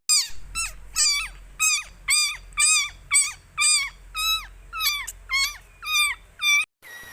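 A young kitten meows repeatedly in a steady series of about a dozen loud, high, close calls, each a short rising-and-falling cry, with no other sounds around it.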